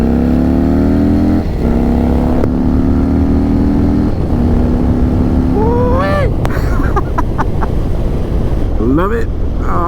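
A 2017 Harley-Davidson Dyna Low Rider S motorcycle engine rumbles loud and close, first idling steadily and then blipping up in revs a few times as it nears the end.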